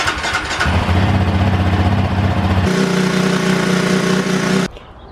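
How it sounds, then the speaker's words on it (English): A 2016 Yamaha Raptor 700R ATV engine starts and runs loudly up close, a steady throbbing single-cylinder idle that shifts pitch midway before it cuts off abruptly. "turn your bike on for like 5 minutes and let it run"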